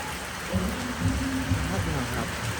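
Rain falls steadily outdoors at a Thai festival site during a power cut, a broad continuous hiss with some low rumbling underneath, moderately close and fairly even throughout.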